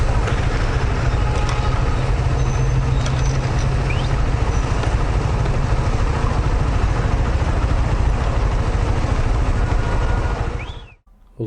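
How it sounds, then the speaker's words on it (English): A vehicle's exhaust runs loud and rough on a street, a constant blaring, sputtering roar held near and steady before cutting off abruptly near the end. "Looks like someone's exhaust is going crazy."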